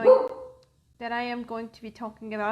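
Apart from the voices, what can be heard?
dog barking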